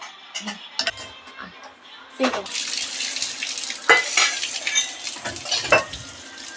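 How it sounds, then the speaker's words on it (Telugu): Water splashes and swishes as boiled eggs are rinsed by hand in cold water, with soft knocks and trickling, steady and close, no one speaking. "కొంచెం వాటర్లో ఇవి కడగాలి."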